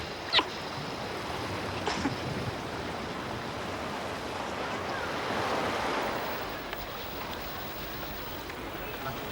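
Gentle waves washing into an aquarium tide pool, a soft continuous surf wash with a swell building mid-way, plus a couple of faint knocks near the start.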